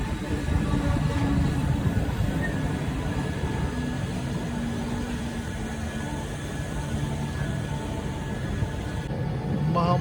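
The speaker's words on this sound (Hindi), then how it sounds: "महामना एक्सप्रेस आराम से निकलती हुई रामपुर जंक्शन पर से।" Mahamana Express, the New Delhi–Varanasi train, pulling slowly out of Rampur Junction, with a steady low rumble and rolling rail noise that holds for the whole stretch at close range.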